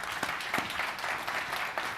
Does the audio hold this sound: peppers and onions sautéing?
no